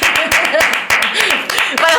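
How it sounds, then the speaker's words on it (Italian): Audience applause at a cabaret show, with rhythmic, fairly loud clapping mixed with voices and cheering from the crowd throughout. "Un applauso!"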